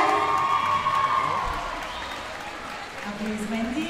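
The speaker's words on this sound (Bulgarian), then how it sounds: "Аплодисменти." Audience applause at a Bulgarian dance competition as competing couples are called to the stage, a steady wash of clapping with some cheering and crowd noise mixed with a host's talk.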